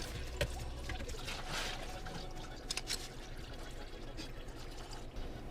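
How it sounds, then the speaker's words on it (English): Coolant draining from a dropped radiator hose on a Porsche Boxster 986, a steady close splashing pour with scattered sharper drips and spatters throughout, no talking. "Drop this rad hose. I'm sure there's more coolant in there."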